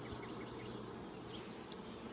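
Steady, close buzzing of many honey bees around a hive being fitted with a super box, a continuous insect drone with no talking.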